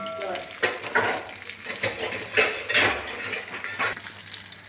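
Onions fry in a pan for a fish curry, sizzling steadily while a spoon turns them in repeated scraping strokes, close and moderately loud.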